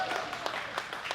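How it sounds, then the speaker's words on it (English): Audience at a book event for a best-selling author claps in a dense, steady patter of many hands, moderately quiet and continuous throughout. "feel free to clap when I say your favorites"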